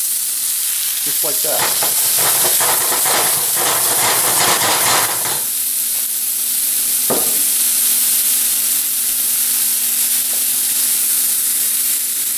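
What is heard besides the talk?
Brussels sprouts sizzling in pan with garlic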